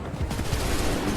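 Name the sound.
musket volley firing in video game Assassin's Creed 3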